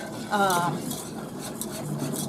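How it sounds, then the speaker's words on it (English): A spoon stirs boiling grape jelly in a pot, making soft scraping and bubbling sounds at close range, with a brief voice heard at the start. "as you stir it, it'll still keep boiling"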